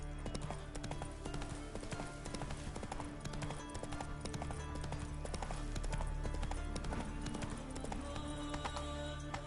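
A horse gallops in the video game The Witcher 3: Wild Hunt, with a continuous, fast clip-clop of hooves throughout, heard alongside other in-game sound.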